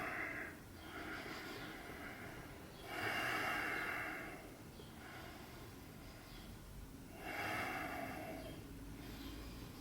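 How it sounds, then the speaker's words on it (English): Slow, deep breaths during a low or high cobra yoga pose, three long airy inhale-exhale cycles close to the microphone, with no talking over them. "Take 3 deep breaths."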